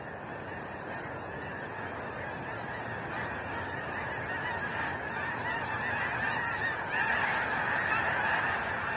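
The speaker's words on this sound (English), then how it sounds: "the thousands of snow geese that landed in the dangerous waters of the Berkeley Pit" A large flock of snow geese honks continuously at the flooded Berkeley Pit, a dense, loud chorus of overlapping calls that swells slightly toward the end, with no voices.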